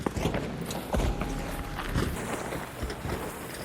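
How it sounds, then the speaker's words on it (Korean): Heavy footsteps thud in a steady run across the ground in the extraction shooter Arc Raiders, loud and close under a layer of game ambience. "발자국 소리 큰 거 듣고 있는데"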